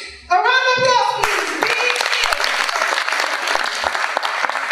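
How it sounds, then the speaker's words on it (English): At a secondary school chemistry quiz competition, an audience bursts into loud, sustained applause right after a brief sung or spoken tone, the clapping filling the room steadily to the end. "A round of applause, please."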